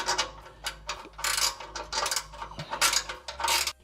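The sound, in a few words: ratcheting spanner loosening exhaust nuts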